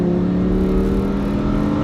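A Lamborghini Huracan's engine, an Audi R8-based V10, drones loud and steady at sustained revs while driving, a dense continuous roar with no voices over it.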